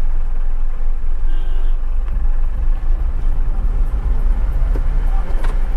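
A car pulls away from a green traffic signal on clutch creep, its low engine rumble steady and close over road noise, with faint traffic around.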